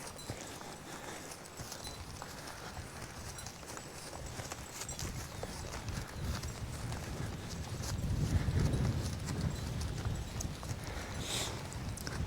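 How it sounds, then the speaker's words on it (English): Draft horses walking while disking a field, a steady rhythmic clip-clop of hooves close by over continuous outdoor rumble and harness rattle, growing slightly louder toward the end, no talking. "these horses are kind of walking a little bit strange this morning"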